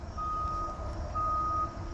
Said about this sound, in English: If you hear the beeping in the background, we live right near a lumber yard.